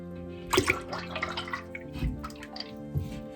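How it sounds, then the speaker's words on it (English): Lye water is poured into goat milk mixed with oils for cold-process soap, giving close liquid splashes and drips over a steady background hum. "My goat milk is already mixed in with my oils, and we're going to pour in the lye water."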